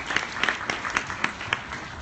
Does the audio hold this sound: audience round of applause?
yes